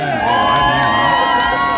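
A festival crowd at a beer and food contest in St-Hyacinthe cheers for the finalists, loud and close, with whoops and shouting voices blending into a sustained, excited roar.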